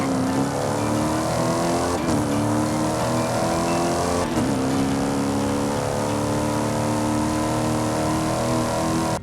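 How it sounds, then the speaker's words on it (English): Cadillac CTS-V engine in Forza Horizon 5: a continuous loud, droning engine note holds steady with rich harmonics, broken by two brief gear-shift dips, no voices. "I'm not a fan of how the Cadillac CTS-V sounds."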